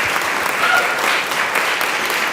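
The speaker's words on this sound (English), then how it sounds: "Round of applause for his awesome gift." An audience applauds at a chamber of commerce business of the year awards ceremony, with dense, continuous close-up clapping that stays even and loud throughout.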